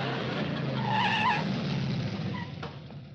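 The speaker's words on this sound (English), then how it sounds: "Here comes that nut on the motorcycle again." A motorcycle pulls up in a classic Hollywood sitcom scene, its engine rumbling close by as tires squeal and skid briefly in a rising whine before it settles, with no talk.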